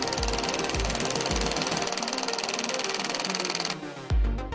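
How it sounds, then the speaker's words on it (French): An impact driver drives a screw with a fast, steady rattle of small hammering clicks. The mechanical chatter runs for about four seconds, then cuts off into a short clunk near the end. "Les petites frappes émettent le bruit de cliquetis caractéristique de la visseuse à percussion"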